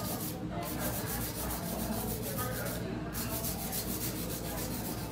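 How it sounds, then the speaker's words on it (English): Acrylic nail being hand filed with a fine crepe file, a steady continuous rasping rub that runs the whole time at close range with brief pauses in the strokes, no talk. "It's good to have, be able to hand file."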